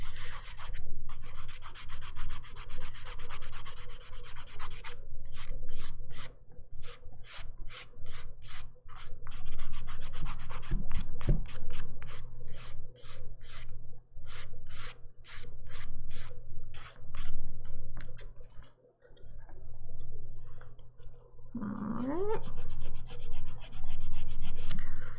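Rapid, rhythmic scratchy rubbing of a buffer smoothing dip powder nails, close and continuous, with short pauses and a faint squeak late in the sequence.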